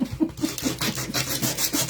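Rough P80 grit sandpaper rubbed along an edge in a craft project, a close, rasping scrape repeated in quick back-and-forth strokes, about four or five per second.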